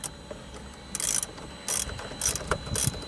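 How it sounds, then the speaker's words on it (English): A ratchet on an extension loosening deep-set 10mm bolts inside a 2014-2019 Toyota Highlander dash, heard as four short bursts of close, sharp clicking separated by pauses. "you're just going to loosen the bolt"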